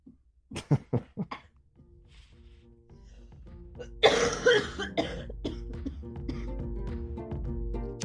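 Several sharp coughs in a quick burst near the start, then a louder rough cough fit amid steady background noise and a low hum.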